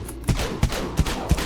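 Dual Broncos shotgun fired in the online zombie game Dead Frontier, four evenly spaced loud booming blasts in quick succession over steady game background noise.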